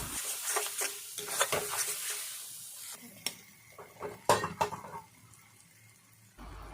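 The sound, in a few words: frying and stirring Maggi noodles masala in a pan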